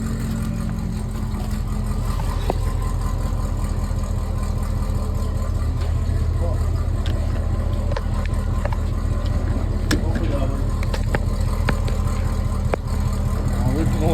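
A 6th-gen Camaro SS V8 with a cheap $60 aftermarket exhaust rumbles at a loud, close idle with a deep, steady low throb and a slight swell of revving, while people talk over it.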